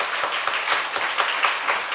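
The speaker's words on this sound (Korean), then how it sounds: "네, 한번 박수로 환영하시겠습니다." A church congregation applauds to welcome a newcomer who has stood up, a steady round of hand clapping from many people with faintly audible individual claps, moderately loud and without speech.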